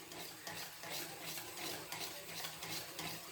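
A spoon stirs condensed milk into curd in a bowl, giving a soft, continuous wet scraping and swishing that stays faint and steady throughout, with no voices.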